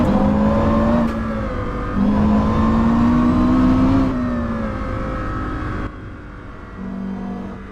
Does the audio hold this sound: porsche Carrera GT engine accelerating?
yes